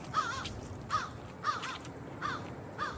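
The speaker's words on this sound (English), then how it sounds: "Shout out to the crow down the street." A crow down the street caws five times at a steady, evenly spaced rhythm, each call moderately distant and harsh over a quiet outdoor background.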